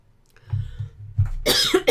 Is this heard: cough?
yes